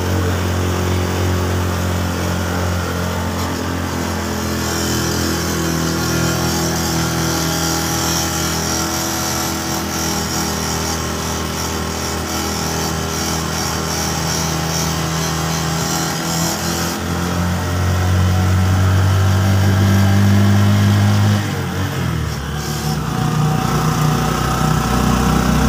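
A small motorcycle tricycle engine drones steadily for the whole stretch while climbing an uphill road, its pitch rising and straining louder near the end as it labors, with no talking.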